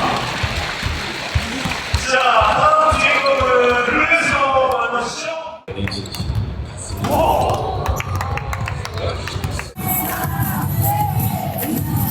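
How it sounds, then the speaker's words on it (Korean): A large crowd at an all-star event cheers and applauds loudly and continuously, with bursts of noise and a public-address voice speaking over the din. "박수 부탁드리겠습니다"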